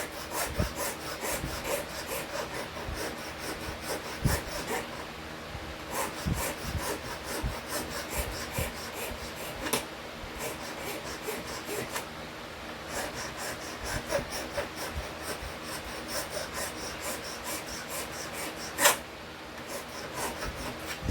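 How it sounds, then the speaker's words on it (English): A hand file rasps steadily against a whitetail deer bone fishing point clamped in a vise, producing continuous close scraping strokes with occasional sharper knocks, no talk. "so I could do the detail filing"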